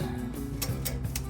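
A ratchet strap is cranked tight on a car's control arm, giving a few quick, close clicks in a short burst.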